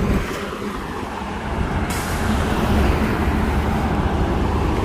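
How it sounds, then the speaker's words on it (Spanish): Heavy road traffic at a highway entrance in Dallas, a dense, continuous roar of cars and trucks passing close by, loud and unbroken with no talk. "por eso es de que hay tanta bulla, tanto carro."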